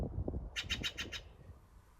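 A bird out in a snowy setting gives a quick run of about five sharp, raspy calls at a fairly even rhythm, carrying over a low rumble of background noise before fading.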